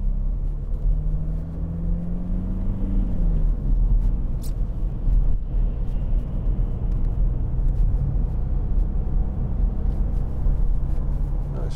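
A 2010 SEAT Altea 1.9 TDI S Emocion five-door drives on a road, heard from inside as a steady low engine and road rumble, with a brief rising engine note early on and a few faint knocks.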